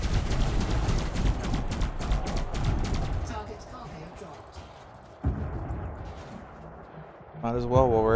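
Spaceship weapons fire in the Elite Dangerous video game while pirate hunting: a rapid string of loud repeated shots for about three seconds, then a softer rumbling tail, with a brief voice near the end.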